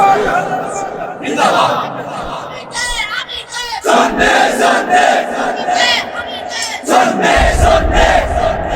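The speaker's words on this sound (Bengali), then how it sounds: "এই যে একটা স্লোগান দিচ্ছেন এখন" A large crowd at an Islamic religious sermon (waz) in Bangladesh chants a slogan in loud, rhythmic bursts, swelling and breaking off in waves, with shouted voices overlapping close and full across the whole stretch.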